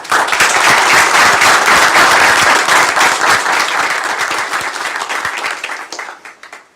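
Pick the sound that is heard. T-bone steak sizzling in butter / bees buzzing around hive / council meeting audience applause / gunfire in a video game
council meeting audience applause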